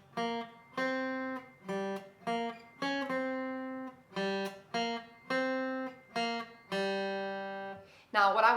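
The riff, plucked on the third string of a guitar: a sequence of short and held clean notes in the familiar stop-start rhythm, fairly quiet and close, with a brief burst of speech at the very end.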